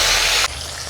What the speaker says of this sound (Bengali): এবারে তেলের মধ্যে দিয়ে দেবো একটা স্টার ফুল আর কিছু গরম মশলা। দিয়ে দেবো টমেটো কুচি